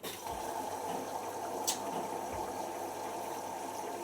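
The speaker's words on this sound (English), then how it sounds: "Pump sounds like it's working there." Steady rushing of water as a washing machine's pump fills the drum, a continuous even wash of sound with a brief sharper hiss partway through, no talking.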